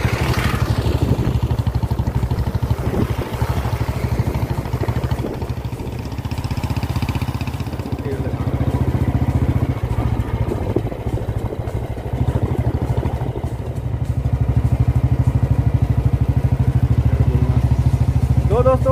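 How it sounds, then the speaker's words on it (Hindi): Royal Enfield Bullet motorcycle riding near Rajpura, Punjab, its thumping single-cylinder engine pulsing steadily and close throughout, with wind and road clatter around it and a voice speaking at times. "और इस बाइक से जाएंगे जिसका नाम है बुल, ये बुलेट है बंटी जी का।"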